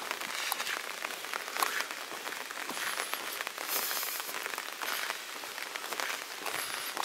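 Rain from Hurricane Irma falls on a forest road walk, a steady hiss with dense irregular patters and drops hitting nearby surfaces, moderately quiet and continuous.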